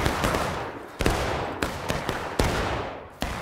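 Musket volleys in the War of Rights video game, a Civil War battle: sharp shots crack repeatedly at irregular intervals over a dense, continuous roar of distant gunfire, loud and close.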